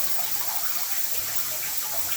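Water from a broken water line gushes out in a strong continuous spray, a loud steady rushing hiss with no pauses and no voices.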